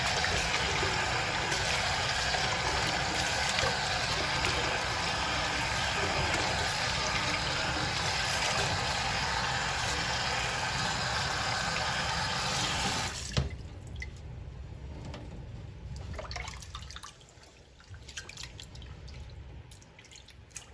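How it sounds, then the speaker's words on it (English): Water runs steadily into a container of quinoa with a rushing, splashy wash, then cuts off, leaving light drips and trickles. "I'm gonna wash, give them a second wash"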